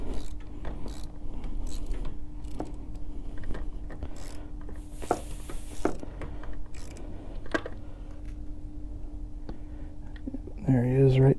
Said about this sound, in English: I'll take the socket, and then I'll just kind of give it a little bit more of a snug fit on there